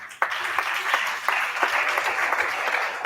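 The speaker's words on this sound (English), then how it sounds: "A big round of applause for the Provost, College of Education, Sciences, Dr. Daniel" A crowd applauding steadily at an international conference, dense clapping with a few sharper individual claps standing out, moderately loud and sustained.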